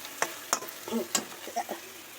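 A cabbage and potato curry being stirred in a frying pan, the spoon scraping and knocking against the pan in a few short strokes, close and moderately soft over a faint background sizzle.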